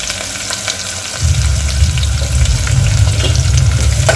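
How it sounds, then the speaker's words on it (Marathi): Curry leaves, green chillies and onion drop into hot oil for masale bhat, bursting into a loud, steady, close sizzle after a second of quieter pan noise. "आता यामध्ये कढीपत्ता मिरच्या आणि कांदा हे सगळं टाकून द्यायचं आहे"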